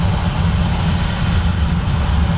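An ATR turboprop airliner arrives at Dublin Airport with a loud, steady engine roar that holds throughout.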